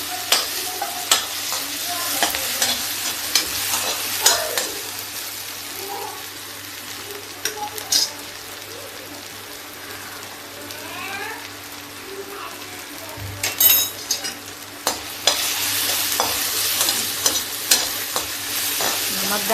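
Tomatoes and green chilies frying in a pan, a continuous sizzle broken by repeated scraping and stirring strokes over about twenty seconds, fairly close and fairly loud, no voices.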